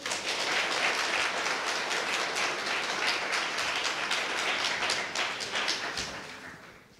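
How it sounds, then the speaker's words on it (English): A seated audience at a career-day finance talk breaks into steady, dense applause that holds evenly for several seconds before tapering off at the end. "let's give her another round of applause"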